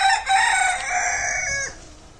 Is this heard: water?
no